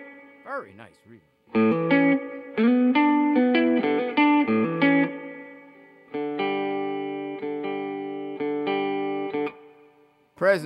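A Mesa Boogie Studio .22 two-channel 20-watt 1x12 guitar combo with an upgraded mod reverb tank plays ringing, sustained notes and chords with effects and reverb. A short vocal sound comes at the start and the end.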